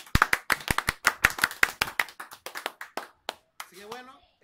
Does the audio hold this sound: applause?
yes